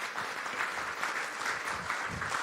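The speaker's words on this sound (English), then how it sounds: "let's applaud them" A business summit audience applauds a panel, with steady, fairly dense clapping throughout and no talk over it.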